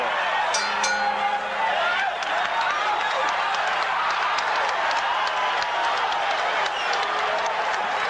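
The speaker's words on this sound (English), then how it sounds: "So the crowd here loves to see it anytime Ali does anything that's in any way exciting" A big arena crowd at Caesar's Palace in Las Vegas roars and applauds steadily throughout a Muhammad Ali vs Larry Holmes boxing match, a dense continuous wash of cheering and clapping with no break.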